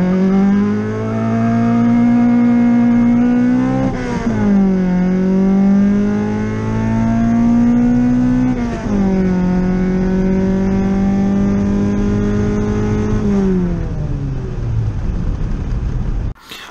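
A Toyota 4AGE four-cylinder engine, fitted with an Apexi SAFC for street tuning, revs hard on a high-throttle pass. It climbs in pitch in repeated surges, loud and close with no talk, then cuts off sharply near the end.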